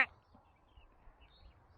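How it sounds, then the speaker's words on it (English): A single duck quack comes sharply at the start, near and fairly clear, then only faint low background rumble follows. "duck."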